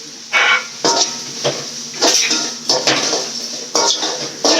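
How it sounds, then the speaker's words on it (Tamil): A spoon or spatula repeatedly knocks and scrapes against a pan while elephant foot yam is sautéed with curry leaves in oil, about eight sharp metallic clinks in an uneven rhythm over a faint background of cooking noise. "கருணக்கிழங்கு வதக்குறேங்க."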